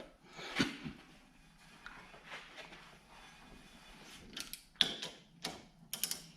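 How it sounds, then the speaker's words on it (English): Metal wrench work on a rear caliper bracket bolt of a 2009 Scion xB: scattered close clicks, scrapes and clanks of the tool against the fitting, with a few sharper knocks toward the end. "I need a thin 17 millimeter wrench for the inside."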